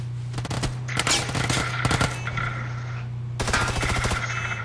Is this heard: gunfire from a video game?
yes